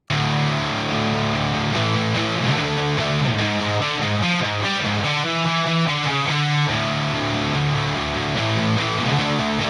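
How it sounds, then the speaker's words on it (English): Guitar played through a small first-owned amp with a built-in speaker, giving a fuzzy, blown-out distortion tone with a honky midrange, as loud sustained chords and riffs ring out continuously. "With the fuzzy blown out distortion character and the 1K honk of the built-in speaker, it's almost a little bit HM2-ish."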